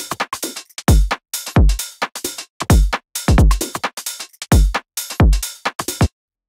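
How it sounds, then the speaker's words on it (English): UK garage drum loop built in FL Studio 21: punchy kicks and crisp snares with a skipping, off-grid swing, repeating loudly and evenly with no voices. "So all together, our drums sounds like this."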